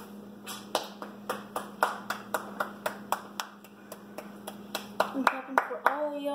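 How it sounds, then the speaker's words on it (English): Steady hand clapping, about fifteen to twenty sharp claps at an even pace, fairly close and clear, ending with a brief higher tone at the close. "I'm clapping for all y'all that got it right."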